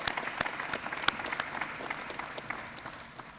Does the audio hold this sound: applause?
yes